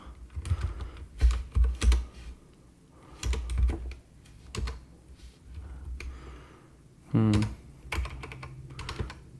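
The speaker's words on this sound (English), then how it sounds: "So let me type here" Bursts of computer-keyboard typing with clustered clicks separated by pauses, close and moderately loud, while a person speaks briefly partway through.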